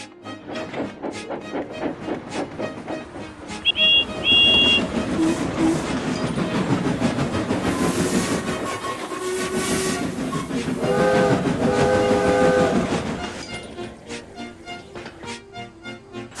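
A train rumbles along with a steady rhythmic clatter of wheels, a whistle sounding briefly twice over the continuous loud running noise.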